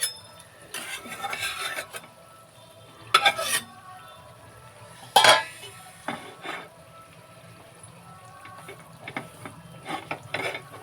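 Metal cookware clanks and scrapes close by on a home kitchen stove in a few sharp bursts, with quieter rustling and shuffling between them and no talking.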